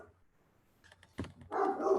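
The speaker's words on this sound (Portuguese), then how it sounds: "Porta aqui, meu cachorro está latindo." A dog barks once, then a rougher burst of barking follows, faint and somewhat distant, heard alone over a quiet indoor background.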